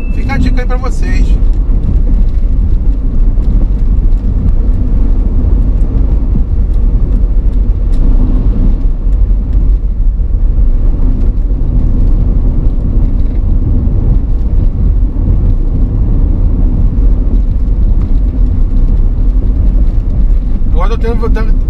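A car engine hums steadily with continuous road noise throughout, a low sustained drone as the car engine-brakes in third gear down a mountain road, with brief higher clatter at the start and end.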